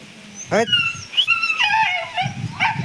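A dog whimpers and yips in short, high-pitched bursts, close by, with quiet voices murmuring underneath.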